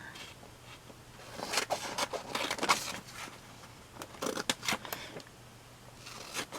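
Scissors cutting a picture out of a glossy magazine page, quiet close snips and paper rustles in short clusters, with no talking.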